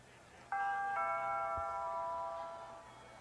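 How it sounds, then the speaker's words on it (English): A doorbell rings once on a television show, a clean two-tone ding-dong chime that sounds clearly and then lingers as it fades slowly. "I'll just ring the doorbell."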